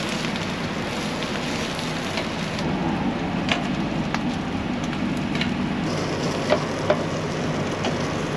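Chorizo and jalapeños frying in a pan inside a truck, a loud, steady hiss and crackle with scattered sharp pops throughout, heard with no talk.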